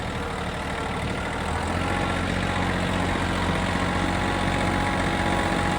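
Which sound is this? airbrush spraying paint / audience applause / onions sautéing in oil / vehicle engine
vehicle engine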